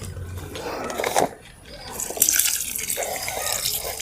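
Water splashes and trickles as it is poured onto an okra plant in a garden, a continuous close splashing with uneven surges and a short lull partway through.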